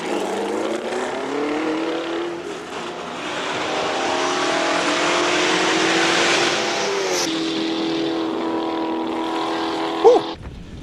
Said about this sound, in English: Purpose-built Ford Mustang competes in the series here at Killarney Raceway